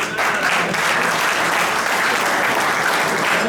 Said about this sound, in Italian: e quindi chiedo un grande applauso